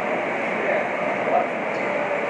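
Steady muffled rumble of a subway train ride heard from inside the carriage near Coney Island, continuous and even, with a voice talking over it.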